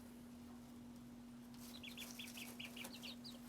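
Backyard coop chickens clucking softly, a short run of quick, faint clucks in the second half over a steady low hum and background noise, no talk.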